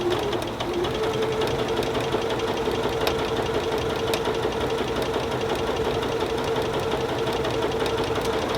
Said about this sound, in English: Here we're just stitching the half square triangles.